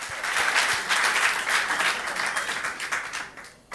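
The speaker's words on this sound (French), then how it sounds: "Let's Alléluia, applaudissons à la gloire de Dieu." A church crowd claps and applauds steadily for several seconds in praise of God, a dense patter of hands that fades slightly toward the end.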